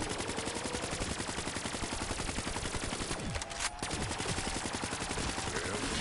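Sustained rapid automatic gunfire in Black Ops 3 Zombies, loud and close, a dense rattling stream of shots with a brief break midway before firing resumes.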